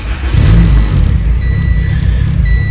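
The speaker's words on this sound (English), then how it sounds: "you're gonna wanna start the car up" A turbocharged Honda Civic engine cranks and catches, with a loud low rumble swelling up early and then settling into a steady idle, close by, while faint high chime-like tones sound intermittently.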